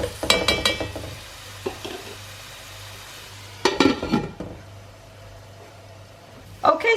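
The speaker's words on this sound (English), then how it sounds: "So we're just going to give that a stir" Onions frying in a pot for a lamb curry are stirred in two bursts of scraping and clinking spoon strokes against the metal, with a soft sizzle in between and a final clatter at the end.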